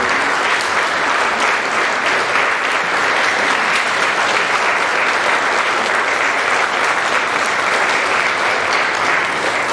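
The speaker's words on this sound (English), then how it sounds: "I want you to give them all a round of applause" Sustained, dense applause from a large conference audience, steady and loud throughout with no pauses.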